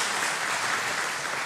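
Church congregation applauding during a Sunday worship service, a dense, steady wash of clapping filling the room at full strength from start to finish.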